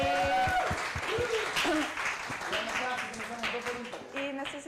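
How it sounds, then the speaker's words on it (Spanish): Applause for a panel at an annual society meeting, a steady wash of clapping with voices and talk running over it throughout. "Un aplauso entonces."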